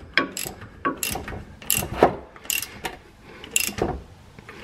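A ratchet tightening the differential fill plug on a Ram truck, several rapid bursts of clicking pawl strokes in an uneven rhythm, close and fairly loud.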